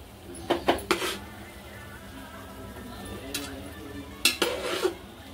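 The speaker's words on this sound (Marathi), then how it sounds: "आता याच्यात आपण जे डाळ तांदूळ शिजवून घेतलेत ना ते टाकूया" Cooked dal and rice go into a pot of fried masala for dhaba-style dal khichdi. A few sharp metal spoon clinks against the pot come early and again near the end, with soft scraping and stirring between them.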